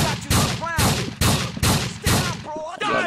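Rapid shotgun blasts in GTA 4 during an indoor firefight, a string of loud, close booming shots in quick succession with short gaps, a voice talking between and over them.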